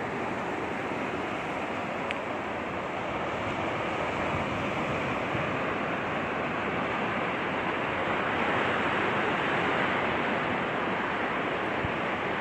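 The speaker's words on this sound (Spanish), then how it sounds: "Y continúo mostrándoles estas hermosuras en la playa de Olón." Ocean waves at Olón beach in Ecuador give a steady, loud, broadband roar of surf with gentle swells in intensity throughout, and no voices.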